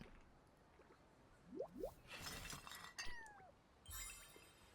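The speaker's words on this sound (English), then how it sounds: "The cat." A cat meows in a video game, a couple of short rising meows standing out over clattering, squishy game effects and a bright burst of chimes, with no talking.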